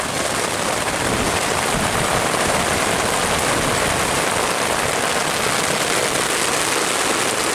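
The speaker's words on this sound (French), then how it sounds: "Il y a un peu de grêle qui tombe." Rain and small hail fall during a mountain thunderstorm in a dense, steady hiss and patter, loud and close with no pause for the whole stretch.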